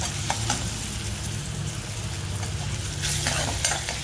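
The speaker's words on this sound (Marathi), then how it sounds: "गोल्डन ब्राऊन झाल्यावर त्याच्यामध्ये आता आपण टोमॅटो घालणार आहोत." Onion and tomato frying in oil in a kadhai, a steady close sizzle with stirring scrapes, brief clatters of the spoon against the pan near the start and louder stirring toward the end.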